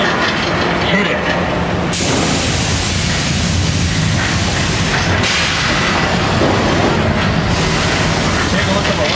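A loud, constant rumbling roar with clattering noise, like heavy machinery or a train shaking, sustained throughout: a simulated magnitude 8.5 earthquake on the Universal Studios Hollywood studio tour.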